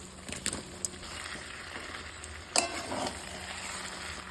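Fried mutton pieces hit hot, oily masala in a pan for a home-style mutton curry and are stirred through. A soft, steady sizzle runs beneath occasional clinks and scrapes of the spoon, all fairly faint and without talk.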